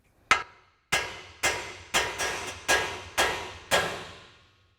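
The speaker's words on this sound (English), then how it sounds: "take a hammer and just give it a couple taps on the side of the knuckle to break it free" Eight sharp metallic hammer strikes ring out on the side of a truck's steering knuckle, evenly paced with brief pauses, each leaving a short ringing decay, knocking it free.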